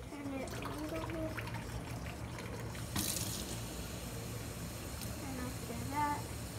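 Tap water runs into a plastic bag at a sink, a faint trickling stream under a person talking, with a brief louder splash partway through.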